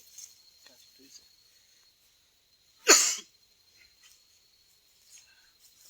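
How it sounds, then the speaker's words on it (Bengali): A single short, sharp cough bursts out once in a quiet jungle at night, with faint crickets and insects chirping in the background. "তোমার যেভাবে কাশি শুরু হয়েছে"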